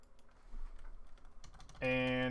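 Typing on a computer keyboard during a tabletop role-playing session, a faint scatter of soft key clicks that ends in a loud sustained tonal burst.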